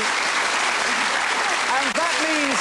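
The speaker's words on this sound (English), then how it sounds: "that is worth another round of applause" Studio audience applause on a Home Run quiz show final: continuous, even clapping fills the whole stretch, with a voice briefly rising over it toward the end.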